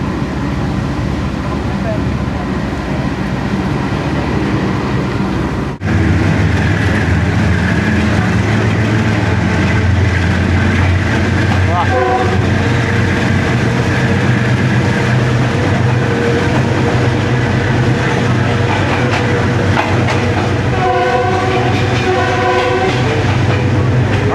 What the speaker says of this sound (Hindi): तूफानी बारिश और उसमें GU20 का विजल 101 अब सबक रफ्तार रेलगार बारिश में नहाती हुई रावलपिंडी जाती हुई